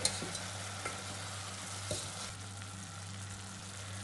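Chicken feet adobo with soy sauce being stirred in a pan, a soft continuous sizzle with a few light spoon scrapes, close but quiet over a low steady hum.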